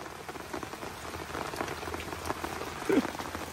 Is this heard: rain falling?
yes